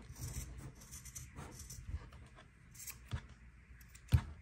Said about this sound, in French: je vais maintenant couper les fils en bas pour détacher